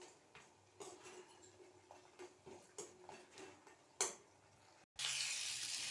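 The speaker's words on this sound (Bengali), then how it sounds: "এই যে বড়িটা ভাজা হচ্ছে, একটু লাল লাল করে ভেজে নেব" Lentil dumplings (bori) fry in oil in a wok with crackles, ticks and scrapes. A spatula clinks on the metal a few times, and the sizzle turns to a loud, steady hiss at the end.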